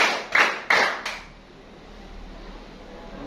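A class performs a rhythmic clap routine, with four sharp, loud group claps in a quick pattern before a quiet room tone follows.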